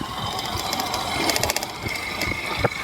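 A motorcycle carrying a wedding couple on the road runs with a steady, rough engine drone, fairly loud and close, with light rattling bursts midway and no talk.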